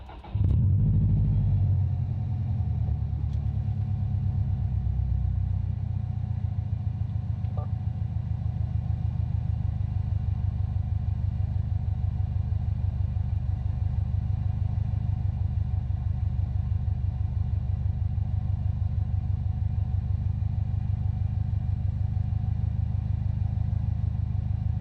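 A 2019 Subaru STI engine cranks and catches at the start, then settles into a steady, deep, rumbling idle that continues throughout with no talking.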